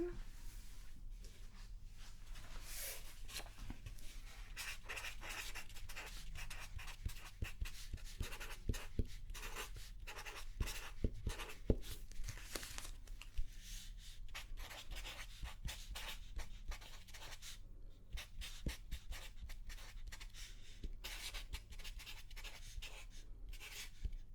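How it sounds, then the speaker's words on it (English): Pen writing down body measurements during a quiet style consultation, soft continuous scratching strokes close up, faint and steady throughout, no talk. "Let me just write those down."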